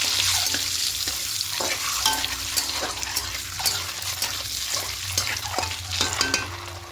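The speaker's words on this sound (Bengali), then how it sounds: "আর সামান্য একটু কাশ্মীর লঙ্কা গুঁড়ো দেবো দিয়ে একটু ভালো করে ভেজে নেবো" Turmeric and Kashmiri chilli powder fry in oil for a yogurt egg curry. A close, steady sizzle runs under rhythmic stirring and scraping strokes of a utensil against the pan, with no talk.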